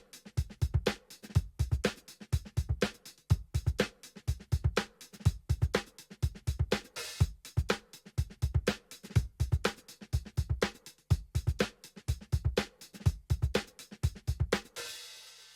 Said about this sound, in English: you can see I've just programmed here a pretty straightforward funk beat